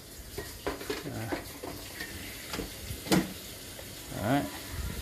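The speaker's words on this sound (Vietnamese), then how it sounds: "Chúng ta lại tiến hành cho chả băm vào nướng tiếp nhé các bạn nhé." Minced pork patties sizzling on a hot grill with scraping and clinking of utensils, moderate volume, no talking.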